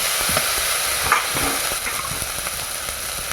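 Masala frying in a pan in a village kitchen for a Bengali-style fish curry hisses in a steady, loud sizzle as water is added, with faint stirring scrapes and small spits and crackles throughout.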